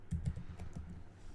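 Brief, soft tapping of keys on a computer keyboard, a quick run of close, light clicks with no voice.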